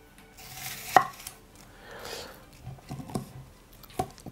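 A knife dices onion into small cubes for a three-mushroom soup, giving a few sharp cutting taps at close range amid soft kitchen rustling, with no talk.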